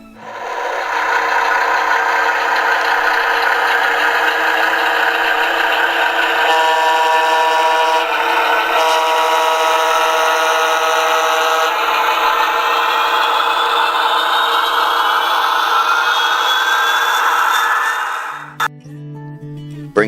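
A model locomotive fitted with a Tsunami digital sound decoder and a skew-wound motor plays a big blowing turbine sound: a loud, steady whine with layered tones that climbs in pitch, then cuts off abruptly near the end.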